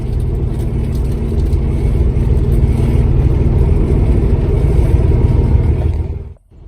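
The engine of a classic Volvo F16 Globetrotter truck drones loud and steady from inside the cab while gears are changed, then the roar drops away briefly near the end.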